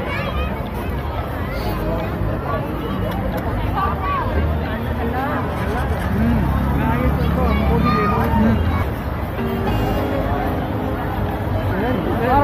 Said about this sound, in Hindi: देख सकते कितनी भीड़ है।